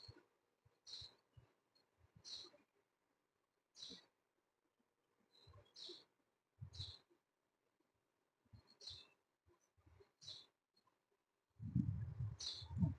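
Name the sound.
birds chirping in the surroundings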